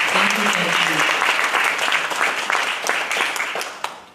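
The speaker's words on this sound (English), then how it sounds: "please, one more hand clap for Ms. Carmen." An audience applauds a keynote speaker at an annual nonprofit summit, with dense, sustained clapping that fills the room and tapers slightly at the end.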